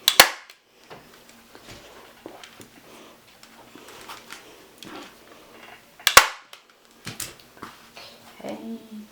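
A staple gun drives staples into fabric stretched over an RV valance, giving two loud, sharp snaps several seconds apart with quieter handling noise in between.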